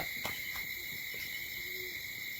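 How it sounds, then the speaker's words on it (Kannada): An owl gives a few soft, distant hoots against a steady night-time hum of insects. "ಗೂಬೆ ನೋಡಿ ಗೈಸ್, ಗೋಬೆ ಹೋಗ್ತಾ ಉಂಟು."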